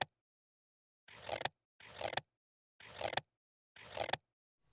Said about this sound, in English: So let me go ahead and cut out our cross.